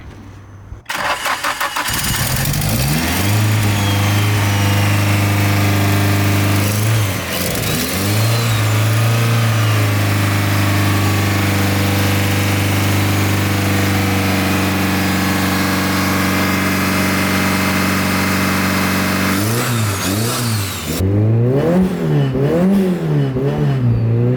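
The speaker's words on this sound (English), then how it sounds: "my car is idling normal instead of 1200 RPMs" A turbocharged SR20-engined Roadster cranks and catches, revs a few times, then settles into a loud steady idle before more cranking and sputtering restarts near the end.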